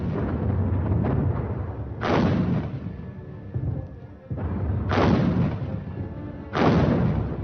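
Heavy German artillery pounding Belgian forts: four deep, booming blasts spaced a second or two apart, each with a long rumbling decay, loud and alone with no voices.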